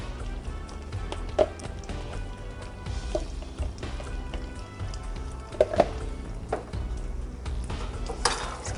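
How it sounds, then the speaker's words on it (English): Stirring a quart of hot chili into a pot, soft scraping and clinking of a utensil against cookware with occasional sharper knocks over a low background hum. "We're going to stir in 1 quart of chili"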